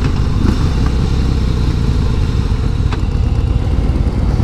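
A 2017 Harley-Davidson CVO Breakout engine rumbles loudly and steadily while riding, a deep, throbbing exhaust note close by with no voices.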